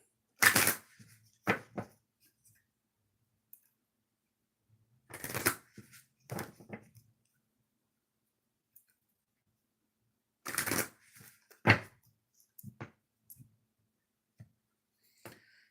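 Oracle cards being shuffled in short riffling bursts, several quick shuffles separated by quiet pauses, close and crisp.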